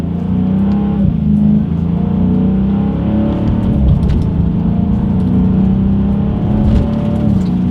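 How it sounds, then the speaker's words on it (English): A 2020 Dodge Challenger R/T Scat Pack accelerates hard through paddle-shifted gears, its loud V8 roaring steadily from inside the cabin with rising engine pitch and brief dips at each shift. "let's test out the paddle shifters of this 2020 Dodge Challenger Scat Pack."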